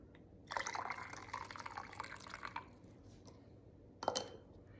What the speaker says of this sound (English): I'm just gonna fill these jars up.